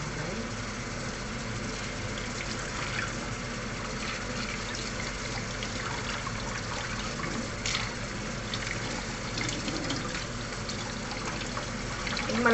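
Moringa (malunggay) leaves washed under a running kitchen tap, a continuous splashing water stream with small trickles and rustles, close and steady for the whole stretch, with no talking.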